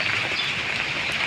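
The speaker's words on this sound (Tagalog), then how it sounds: "ang lakas naman ng ulan, no? Ngayon, naambon naman" Light drizzling rain falls as a steady soft hiss of drops on surfaces, faint and continuous, with no voices.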